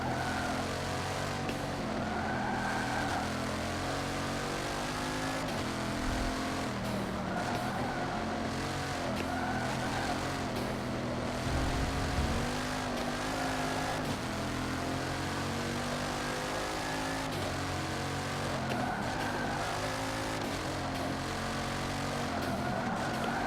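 Bugatti Chiron engines in Forza Motorsport 7 drone steadily and loudly throughout, with layered whining tones shifting in pitch as the cars run.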